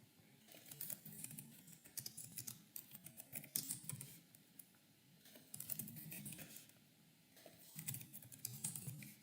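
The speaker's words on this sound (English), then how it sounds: "I was typing in chat." Someone types on a computer keyboard in rapid, irregular bursts of soft, close clicks with brief pauses, heard alone without talk.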